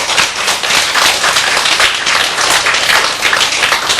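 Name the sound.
audience applause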